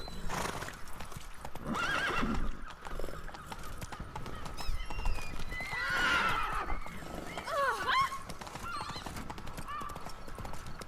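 A horse gallops in The Witcher 3 with rapid clip-clop hoofbeats and a whinny in an outdoor game setting, while someone talks over the action.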